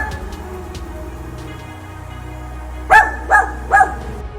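A dachshund barks three times in quick succession near the end, loud and close, after a stretch of quiet indoor room tone.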